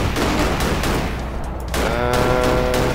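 Rapid bursts of gunfire from the side-scrolling game Cortex Command, sounding as a dense, loud volley of overlapping shots that runs the whole time, with a brief dip partway through and then a ringing, echoing tail.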